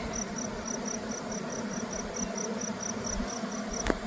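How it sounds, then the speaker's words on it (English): Honeybees swarming from a hive in a backyard apiary, a steady, dense insect drone with a faint repeating high chirp and a brief tap near the end. "I have a swarm going on right now"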